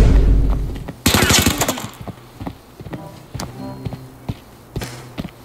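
Gunfire in a shooting video game: a heavy opening burst followed by scattered single shots and short volleys at irregular intervals, mid-distance, with faint tapping footsteps between them.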